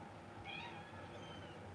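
A kitten gives a short, faint meow, heard once against a quiet indoor background.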